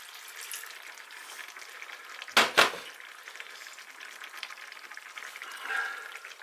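Orange juice being stirred into a thickening chicken stir-fry sauce, heard as a bubbling, liquid sizzle with two quick loud clatters midway and a final swirl of stirring.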